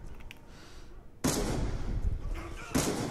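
Heavy shotgun blasts from a Call of Duty Black Ops 2 match, loud broadband bursts at about 1.2 s and again near 2.8 s over game ambience.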